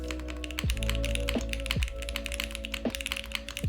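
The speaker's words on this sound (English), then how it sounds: "I actually like the typing feel of this." Rapid, steady keystrokes on a Y8 prototype mechanical keyboard click and clack up close, sounding continuously over a sustained tonal musical background.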